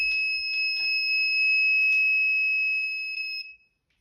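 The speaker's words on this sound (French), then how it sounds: "quand ça bip comme ça veut dire attention, il y a un détecteur, il y a une porte ouverte" A Siemens security alarm system sounds a continuous high-pitched electronic tone loudly for about three and a half seconds, with faint clicks at the start, then cuts off abruptly.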